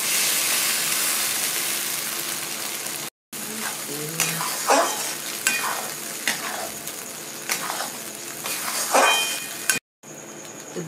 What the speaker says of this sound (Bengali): এবার দিয়ে দেবো আমি যে মশলাটা পেস্ট করেছিলাম সেটা, আদা রসুন